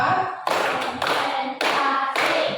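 Repeated bursts of children's hand clapping in a classroom, delivered in quick rhythmic groups separated by short pauses, close and loud, with no voices over the claps.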